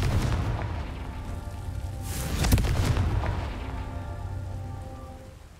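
Confringo blasting spell cast in the Hogwarts Legacy video game, a fiery explosive burst swelling mid-clip into a booming crackle over a steady rain-like wash of ambient game noise.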